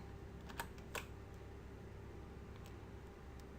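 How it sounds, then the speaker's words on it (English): Keyboard shortcut Control+B pressed on a computer keyboard while formatting a spreadsheet: two quiet, sharp key clicks close together near the start, then a couple of fainter taps, over low room hiss. "I'm going to do Control+B on the keyboard"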